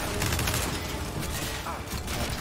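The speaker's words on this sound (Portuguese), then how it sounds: "onde é que tá vindo o tiro?" Rapid, dense gunfire bursts rattle through a Gears 5 campaign firefight, a continuous loud barrage of shots and impacts, with a player's voice talking over the din.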